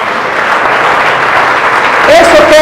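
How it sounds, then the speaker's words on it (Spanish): A church congregation at a healing service applauds loudly and continuously, a dense roar of clapping with a voice rising over it near the end. "Démosle ese aplauso a Jesús."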